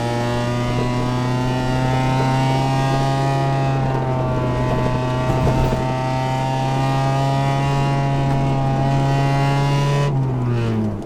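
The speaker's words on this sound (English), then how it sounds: "Notice how I'm staying on the brake while I accelerate through the corner" A car engine drones loud and close under steady load as the car brakes and accelerates through a corner, holding an even pitch before the tone drops sharply near the end.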